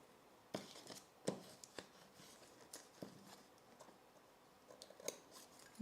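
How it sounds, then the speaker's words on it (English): Scissors snip through a paper sewing pattern during a knit wrap dress fitting: faint, close cuts come in irregular bursts against a quiet room. "I'm gonna use scissors."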